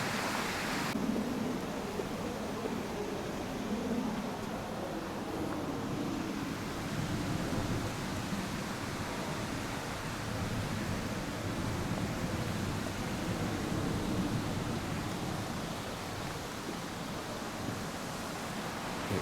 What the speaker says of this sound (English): Plus with the water going, it's getting louder and louder.